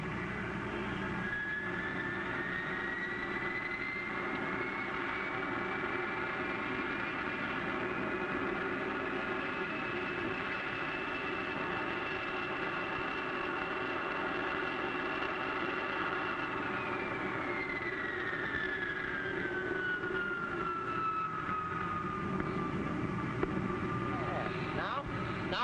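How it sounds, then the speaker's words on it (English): An old radio drama's airplane engine effect drones steadily for a long stretch, a rising pitch swelling and then sinking again as the plane climbs, with actors' voices talking over it. "Now for the climb. More throttles, Happy."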